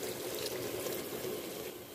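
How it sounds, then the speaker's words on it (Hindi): One glass of water pours steadily into a pot of chicken and green bean curry, a continuous splashing gurgle at close range with no talking. "अब हम इसमें 1 गिलास पानी का डालेंगे।"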